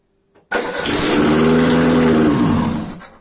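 A Peugeot 205 catches on the key and its engine starts: a short cranking burst, then a loud, close roar that holds steady for about two seconds before easing down.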